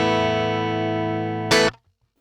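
An electric guitar played through a BluGuitar Amp1 with its amp sim turned off sustains one harmonically rich, buzzy chord that fades slowly. A short noisy burst then cuts it off, leaving near silence.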